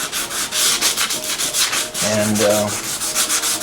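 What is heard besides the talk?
sanding a stereo speaker cabinet with heavy sandpaper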